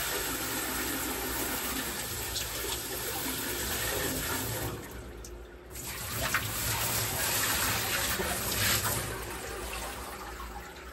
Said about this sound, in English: Okay, I've dumped in a bunch of water.